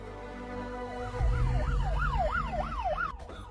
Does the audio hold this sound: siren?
yes